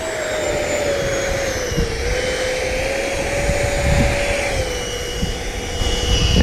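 3D printed Grumman F11F Tiger RC jet with a 50mm electric ducted fan taxiing, a loud, steady high-pitched fan whine and rushing air whose pitch dips slightly and then holds, close by with no voices.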